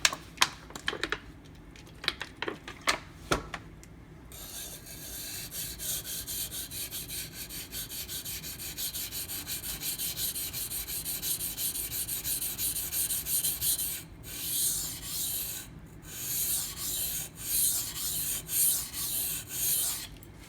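Dalton 07 Militia knife blade sharpened on a friable abrasive stone: a few quick separate scrapes, then a long run of continuous rhythmic gritty strokes, close and steady, with no one speaking.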